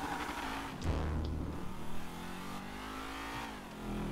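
A car with a cool livery revs its engine in GTA 5, the pitch rising and falling through a couple of throttle surges at moderate loudness, with no talk.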